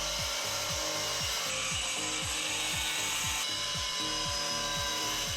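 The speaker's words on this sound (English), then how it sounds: "So you cut deep enough to cut the grout and the glue out." A power tool grinds out grout and glue between shower wall tiles, loud and close, with a steady scraping rhythm of repeated strokes and no talking.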